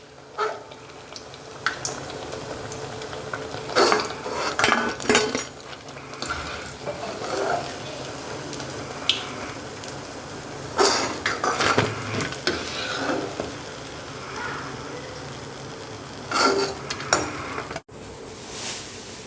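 Fried onion bajji fritters lifted from the pan onto a plate, giving intermittent metallic clinks, scrapes and clatter of a utensil against cookware, moderately loud against quiet kitchen background.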